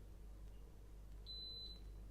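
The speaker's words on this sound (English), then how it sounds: "So that's a bleeping sound or a beeping sound." An electric cooker gives a single short, high-pitched beep as it is switched on, fairly faint and alone in an otherwise quiet room.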